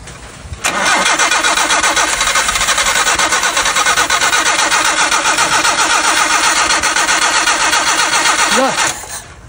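A Nissan Sentra boxtype car's engine cranks and catches after a carburetor repair, then runs loud and steady at a fast idle for several seconds before cutting off, with no talking.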